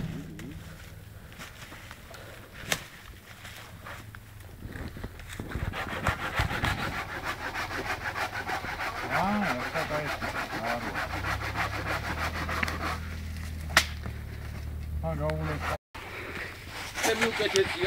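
A hand saw cuts through wood outdoors, rasping back-and-forth strokes that build into a steady rhythm and carry on for most of the stretch, while several people talk nearby.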